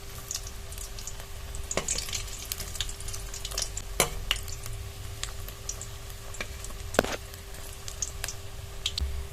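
Homemade sweets fry in oil over a medium-low flame: a soft continuous sizzle with sharp clicks and taps as the pieces are turned over often, with no voices.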